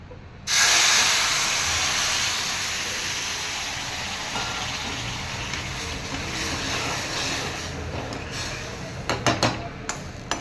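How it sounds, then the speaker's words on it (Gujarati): Hot water poured into ghee-roasted broken wheat in a pressure cooker bursts into a sudden loud hissing steam spray that gradually eases off, followed near the end by a few short clattering knocks, close by with no talking. "હવે આપણે આમાં પાણી ગરમ કરેલું પાણી નાખી દઈશું."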